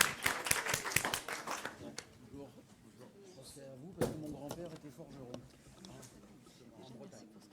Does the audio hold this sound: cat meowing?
no